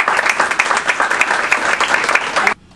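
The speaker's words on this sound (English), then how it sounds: "Let us give that a round of applause." Audience applause at a Women's Equality Day forum in New Orleans, a loud, dense burst of clapping from a crowd that stops abruptly near the end, leaving near silence.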